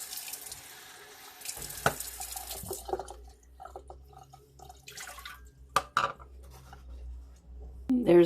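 Water runs from a tap into a sink, a close hiss of flow at the start that stops, followed by quieter drips, clinks and handling sounds, with a brief voice near the end.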